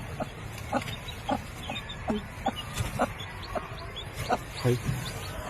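A local village hen clucks in short, repeated bursts at a steady pace as she hides her chicks, with faint chick peeps and a soft farmyard background.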